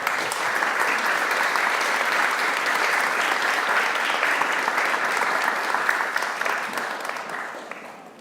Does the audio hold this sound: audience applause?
yes